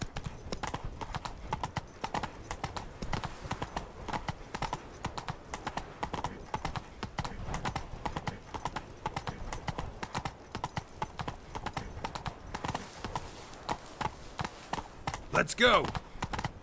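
Roach the horse gallops in The Witcher 3, a fast, steady clip-clop of hooves running throughout at close range, with a brief shouted voice near the end.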